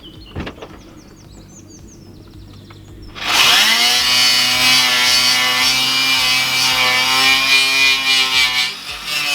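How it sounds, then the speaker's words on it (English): Angle grinder on a Mitsubishi Pajero floor, grinding rust back to bare metal: after a few light clicks and a quiet pause, a loud sustained whine kicks in and holds steady and close for the rest. "Right, so I have grinded as much of the rust out as I think will be okay."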